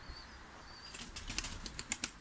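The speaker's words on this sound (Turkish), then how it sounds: "Arkadaşlar da kuş uçurdu şimdi" Tumbler pigeons' wings flap in quick bursts, fluttering past at moderate distance in flight against quiet outdoor background.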